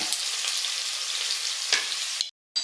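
Sliced onions sizzle and fry steadily in a hot pan for a chicken curry, a close, continuous bright hiss with a brief stir near the end before cutting out.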